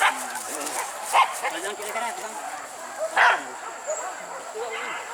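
A dog in a banana grove near rice fields yips and barks in short scattered bursts, moderately close, mixed in with people talking.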